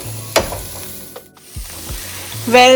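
Eggs sautéing with salt and curry leaves in a pan for egg roast masala, a steady sizzle broken by a few sharp scraping stirs and clinks, with a brief quiet gap midway before the frying swells louder at the end.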